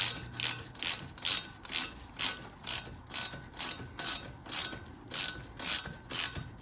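Ratchet clicking in a quick rhythmic series of about a dozen pulls while turning a brake caliper bolt on a Mini Cooper R50 during front brake pad work, close and alone with no talk.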